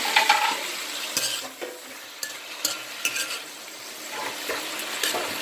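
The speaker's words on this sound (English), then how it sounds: "So I'm gonna have this sauteing" Seasonings for brown stew snapper sauteing in a pan, a steady close sizzle broken by the scrape and clink of a utensil stirring against the pan.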